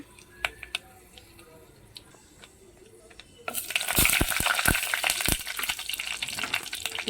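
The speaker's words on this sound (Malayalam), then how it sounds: "കുറച്ച് എണ്ണ ഒഴിച്ച് കൊടുത്തിട്ടുണ്ട് അതൊന്ന് ചൂടായി വന്ന് നമുക്ക് കടുക് പൊട്ടിച്ചെടുക്കാം" Mustard seeds, fenugreek and a dried red chili hit hot oil: after a few quiet ticks, a loud, dense crackle of popping and sizzling bursts in and keeps going.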